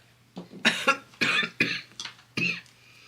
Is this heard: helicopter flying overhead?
no